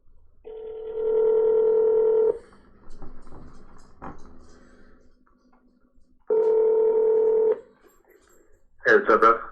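A telephone rings out with two long ringback tones separated by a quiet gap while a call is placed, followed by a short burst of voice as the line picks up.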